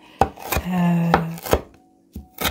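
A big knife chops parsley on a board in a few distinct, sharp thuds spaced unevenly, close and clear, with brief pauses between strokes.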